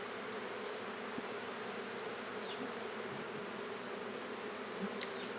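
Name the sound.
honey bees buzzing in backyard hive swarm colony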